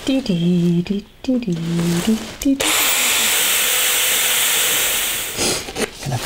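A power tool drives M6 bolts into wooden brackets for a hanging garden shelf; after someone talks, a loud, steady whirring drone runs for about three seconds, then trails off.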